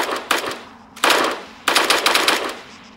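M16A2 rifle firing in Arma 3: loud, close bursts of sharp shots in quick clusters, with short pauses between bursts and a clattering tail after each volley.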